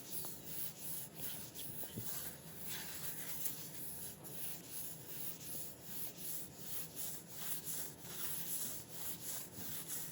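A wooden cutting board is polished by hand with boiled linseed oil, making a soft, steady rubbing and scrubbing sound in repeated strokes, close and fairly quiet.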